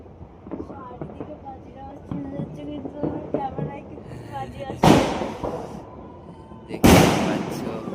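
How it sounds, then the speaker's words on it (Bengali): New Year fireworks and firecrackers bursting outdoors, with scattered crackling pops through the clip and two loud, broad booming bursts near the end, while people talk nearby. "দেখো কত সুন্দর বাজি ফাটাচ্ছে সবাই।"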